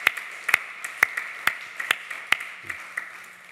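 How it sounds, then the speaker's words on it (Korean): Sharp, evenly spaced claps ring out one at a time in a quiet church hall, about eight distinct hits over a few seconds, tapering off toward the end. "우리 박수로 하나님께 영광 돌리고 승리하겠습니다"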